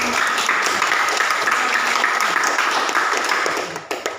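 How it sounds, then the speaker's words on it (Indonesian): Applause in a classroom, many students clapping steadily in a thick, continuous patter that starts to thin out just before the end. "Oke, aplaus dulu. Tepuk tangan untuk"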